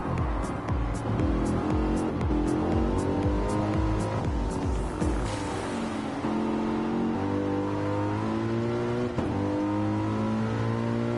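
GT3 race cars in a racing video game at the Red Bull Ring in wet conditions, engines loud and close with rapid downshift and rev patterns, gear changes and a brief tire squeal, continuous throughout.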